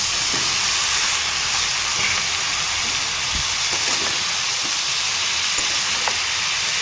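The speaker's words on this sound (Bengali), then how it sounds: "এখন দিয়ে দিব সিদ্ধ করে রাখা ফুল ব্রকলি আর আলু" Boiled broccoli florets and potato frying in a pan, a dense, loud, continuous hissing sizzle with faint stirring knocks, close up and alone without talk.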